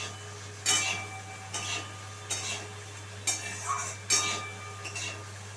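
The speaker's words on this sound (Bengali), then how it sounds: "সয়াবিনগুলো আমি তেলের মধ্যে দিয়ে দেবো। সয়াবিনগুলো একইভাবে একটু নেড়ে" Boiled, drained soybeans frying in hot oil in a pan, with a soft steady sizzle under several distinct scraping stirs of a spatula against the pan, spaced about a second apart.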